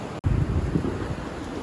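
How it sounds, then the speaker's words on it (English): Steady wind buffeting the microphone with a low, rumbling roar that holds throughout, broken only by a brief dropout near the start. "It is so windy here."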